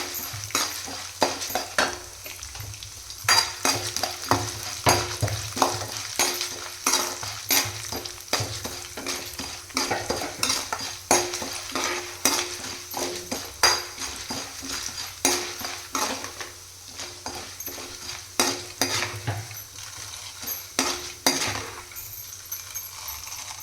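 Chana dal, urad dal and cumin frying in a pan for beerakaya chutney, a steady sizzle with dense, rapid scraping and clinking of a spoon stirring throughout, close and continuous with no talk.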